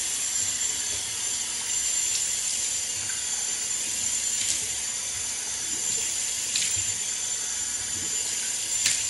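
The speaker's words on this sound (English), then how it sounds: "I'm going to get the face splashed off with some warm water" Warm water runs steadily from a bathroom tap into a sink for splashing the face before a shave, a constant broadband hiss with a few faint clinks and splashes throughout, no voices.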